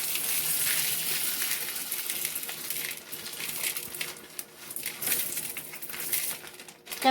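Beans rinsed under running water in a kitchen, with a steady hiss of flowing water broken by crinkly splashes and rattling, louder at the start and again near the end.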